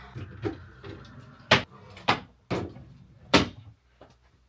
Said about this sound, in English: now I've finished all of these drawers. So let's pop them in.